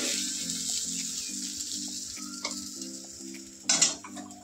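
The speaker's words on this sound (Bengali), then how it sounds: "আমি মাছটা ভাজি আস্তে আস্তে করে" Fish fries slowly in a black wok with a constant close hiss and crackle, joined by a low repeating mechanical hum and a louder burst of sizzle near the end.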